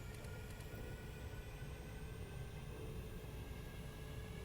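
An aircraft engine throttling up in the Stormworks video game: a steady, airy roar with a low rumble, constant and fairly faint, with no voices over it.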